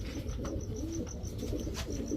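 Surma Khaki highflyer pigeons coo softly and repeatedly, the low rolling calls overlapping against a steady background murmur, with faint higher chirps scattered above.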